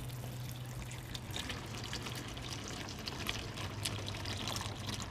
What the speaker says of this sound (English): Oil's going to start pouring out of here.